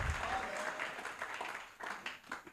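Church congregation clapping and acclaiming Jesus, a short burst of scattered applause that thins out, then picks up again briefly, fairly faint and roomy.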